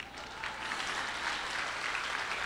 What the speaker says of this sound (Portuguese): Primeiro aplauso em cena aberta.